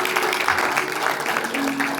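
An audience at a devotional evening event applauds an honoured guest, giving a steady burst of many hands clapping at a moderate level, with a faint sustained tone in the background.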